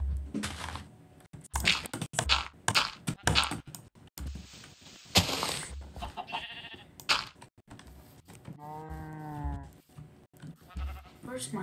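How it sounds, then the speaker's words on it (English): Blocky bleats of sheep in the video game Minecraft, several short baas in a row amid other game sounds and brief talk from a player. "Sheep baas."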